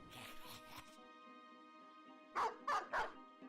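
A dog in the video game Battle Brothers gives three quick barks close by after a quieter stretch of game sounds.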